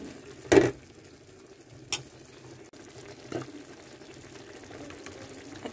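Chicken for a paratha filling fries quietly in a pan, a soft low sizzle broken by a few sharp stirring knocks.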